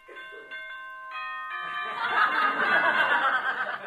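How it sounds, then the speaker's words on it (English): A boxing bell rings a few quick strikes to open the first round, then fades under a burst of chuckling and laughter. "Here's the bell for the first round."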